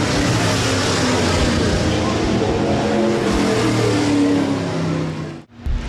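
USRA B-Modified race cars roar around the Rapid Speedway dirt track, a loud, continuous engine drone with revving swells that cuts out briefly near the end.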